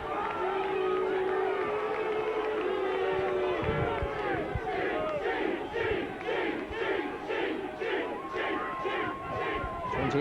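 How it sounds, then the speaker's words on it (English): Rugby league crowd at a Workington Town versus Leeds match booing loudly as a kick goes over, a massed roar of jeers and shouting that swells, then breaks into rhythmic chanting, distant and dense. "The boos of the crowd tell you that it's sailed through the middle"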